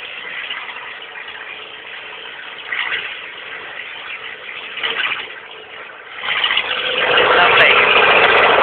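A Peugeot 106 1.1L running with no exhaust gives a raw, buzzy engine drone that swells in a few blips and then rises to a louder sustained rev near the end, heard with people talking nearby.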